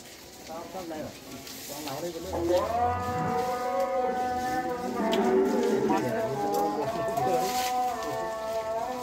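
A large cow with sharply curved horns moos in long, drawn-out calls close by while her newborn calf is nearby, the lowing swelling and falling across several seconds.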